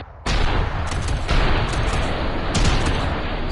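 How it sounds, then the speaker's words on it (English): A mech firing rockets in the VR arena game Code 51: Mecha Arena, a sudden loud onset of roaring, rumbling blasts that swell in repeated surges over a few seconds. "Look at this little guy. Fires rockets."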